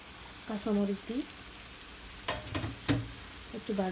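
Green chillies sizzle in hot oil for a hilsa fish do-peyaju curry, a faint frying crackle with a few stirring and utensil sounds close by.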